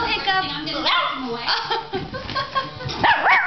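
A Klee Kai dog gives sharp, excited barks and yips at another dog, in quick bursts under a person talking close by.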